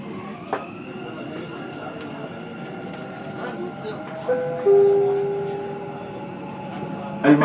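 A Dubai Metro train runs along its line, a steady interior rumble carrying sustained electric whine tones, with a short chime-like tone near the middle and brief clicks near the end.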